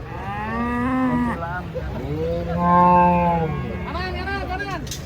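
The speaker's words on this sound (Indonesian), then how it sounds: "sebelah sini ada sapi kurus guys" Cows unloading from a truck moo loudly and close by, several long, low bellowing calls one after another, with some background chatter and outdoor noise.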